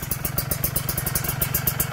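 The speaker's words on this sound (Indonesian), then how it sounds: "Ini teman-teman bisa dengar suara mesinnya halus banget ya ke bawah." A Kawasaki Ninja 2T two-stroke motorcycle engine idling smoothly during break-in, with a close, steady rapid putter and a fast rhythmic pulse.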